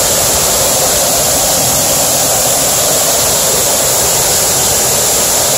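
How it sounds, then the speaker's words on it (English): Harrison Wright Falls in Ricketts Glen State Park heard from right behind the falling water: a loud, steady, full-bodied roar of heavy water flow that continues unbroken with no voices. "There's a lot of water in the waterfall."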